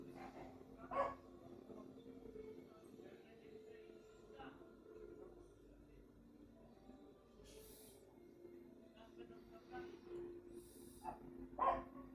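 A dog barks a few times in short separate bursts, faint and somewhat distant, over a quiet background with low murmuring.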